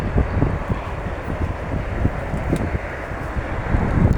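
Strong wind buffets the microphone in a constant roaring rumble, with gusts swelling and easing throughout.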